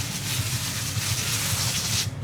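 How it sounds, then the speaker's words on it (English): A steady, close hiss of water spraying from a garden hose onto seedlings, continuous and even, cutting off abruptly at the end. "I like to give it a spray with our hose"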